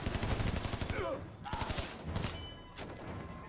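Rapid machine gun bursts in the video game Army of Two: The Devil's Cartel, stuttering and fairly close, mixed with other game effects under a quiet overall level.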